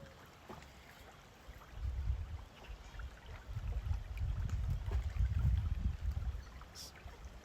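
Water flowing in a small stream beside a bank outdoors, a soft continuous rush and trickle that grows louder and closer after the first couple of seconds, with no voices.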